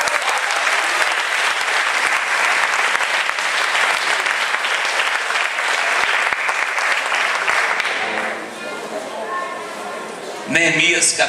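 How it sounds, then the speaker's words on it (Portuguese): Loud, sustained applause from a church congregation at a Portuguese-language leadership conference, dense clapping filling about eight seconds before thinning out, with a brief burst of music or noise near the end. "Então dê um forte aplauso nisso"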